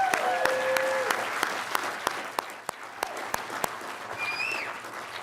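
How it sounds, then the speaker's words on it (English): Audience at a hospitality industry awards ceremony in Oregon applauds steadily for about five seconds, a dense wash of clapping with a few sharper near claps and a brief whistle-like tone near the end. "I think that deserves a round of applause."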